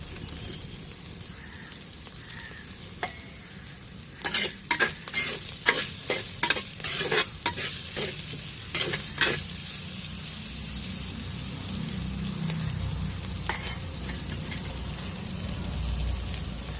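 Curry ingredients sautéing in a pan for a Malabar-style tuna curry with kudampuli, a soft sizzle broken by a run of clattering stirring strokes in the middle, then settling back to a gentle hiss.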